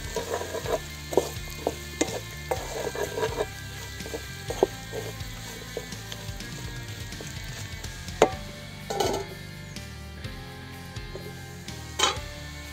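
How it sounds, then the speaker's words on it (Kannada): Mutton frying with garlic in a pan for a spicy pepper mutton fry gives a steady, close sizzle, broken by sharp clicks and scrapes of stirring at irregular moments. "ಬೆಳ್ಳುಳ್ಳಿ ಒಳಗೇನೆ ಫ್ರೈ ಆಗ್ಬೇಕು ಚೆನ್ನಾಗಿ ಸ್ವಲ್ಪ."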